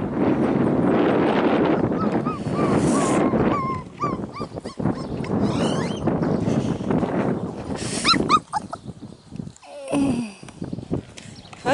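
Young male puppies bark and yip near the microphone in repeated short bursts, with whimpers and some wind noise between them.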